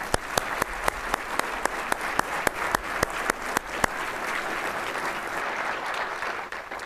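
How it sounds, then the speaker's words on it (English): Warm round of applause from the audience at a United Way annual meeting, steady moderate clapping with several sharp, regularly spaced nearby claps standing out during the first four seconds. "Let's give these folks a warm round of applause."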